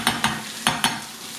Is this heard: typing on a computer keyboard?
no